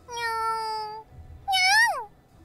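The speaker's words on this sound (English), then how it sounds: "It seems like a nice kitty." A cat meows twice in the video game Super Neptunia RPG: first a long, steady call, then after a short gap a louder, clearer meow that rises and falls. Both are heard alone with no talk.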